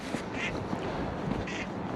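Ducks quack twice at a dock at night, the short nasal calls somewhat distant over a low outdoor hum and faint background noise.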